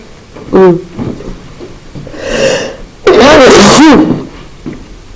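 A loud, close sneeze bursts out after a wheezy breath in, with a smaller vocal sound earlier and quiet noise between.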